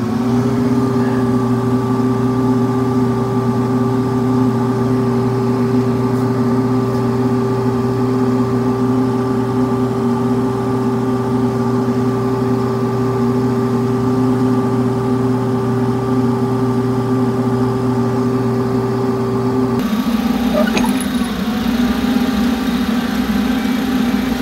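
An Arbos 5130 tractor engine runs under load during a 2x4 pull test on the lower hitch. It holds a loud, steady droning hum with strong tonal layers that shifts abruptly near the end.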